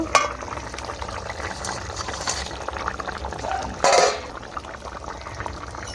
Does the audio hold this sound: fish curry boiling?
yes